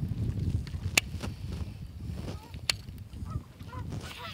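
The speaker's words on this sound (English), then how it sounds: "there's a ton of geese" A flock of geese honks on a lake during a bass fishing trip, with scattered sharp honks at a moderate distance over wind and low boat rumble.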